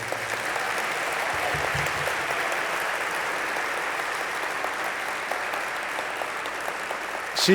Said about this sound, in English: I want to give her a round of applause for all the work she did.